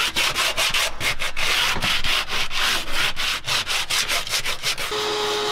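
Sandpaper rubbed by hand in quick back-and-forth strokes, a close, rhythmic scratchy rasp that repeats steadily with brief pauses.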